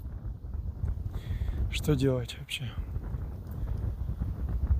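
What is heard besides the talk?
strong mountain wind blowing on microphone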